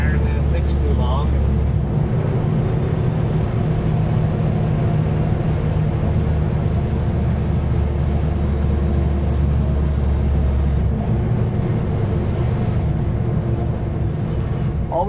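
A truck engine labours steadily up a mountain climb in the Monashees, its low drone filling the whole stretch with a brief shift change partway through, while someone talks over it almost continuously.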